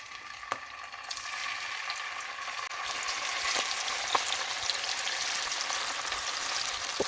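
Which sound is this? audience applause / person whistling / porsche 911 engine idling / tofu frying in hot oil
tofu frying in hot oil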